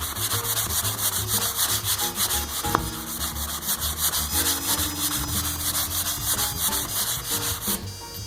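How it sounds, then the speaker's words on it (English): Steady, rhythmic scratchy rubbing of light sanding on wood with a block sander over grain filler, repeated back-and-forth strokes at close range, with a faint tonal hum in the background. "So just a little bit of light sanding."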